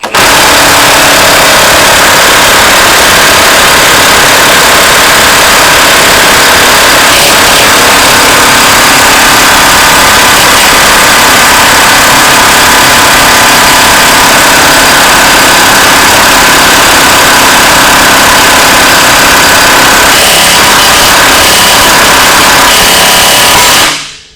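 A battery-powered 1/2 inch impact wrench, from makers such as Milwaukee, Matco and Carlyle, hammers continuously on a nut as a loud, harsh, steady rattling buzz for over twenty seconds before cutting off abruptly.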